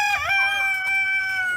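Two roosters crow back and forth in a duel, one drawn-out cock-a-doodle-doo overlapping the other, close and clear.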